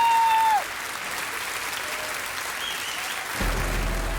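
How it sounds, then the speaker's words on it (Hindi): An audience applauds to welcome a performer on stage, with steady, moderately distant clapping that runs throughout. A brief tonal sound comes at the start and a low rumble near the end. "तो तालियों के साथ स्वागत करते हैं कमाल परफॉर्मर"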